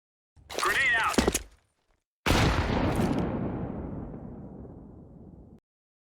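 In a video game, a short burst of sharp crackling shots is followed by a heavy grenade blast whose rumble decays over several seconds.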